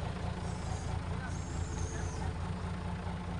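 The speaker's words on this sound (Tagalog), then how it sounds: "So yung naririnig nyo po, truck po yan." A nearby truck's engine idles in a low, steady rumble, fairly quiet and continuous, with faint higher hisses drifting over it.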